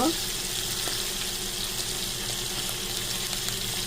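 Chicken wings fry in a little oil with a close, constant sizzle. A soft clink near the start marks the wings being turned over one by one.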